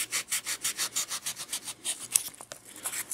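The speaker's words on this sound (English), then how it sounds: "I'm going to just quickly cut off a piece" Hand saw cutting an edge off a wooden craft piece for a model house, about a dozen quick, even rasping strokes close up, slowing and ending with a few knocks.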